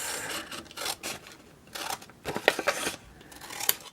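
Scissors cutting off excess paper from a journal page, with several close, soft snipping and rasping strokes and a few light paper rustles.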